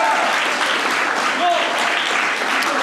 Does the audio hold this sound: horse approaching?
no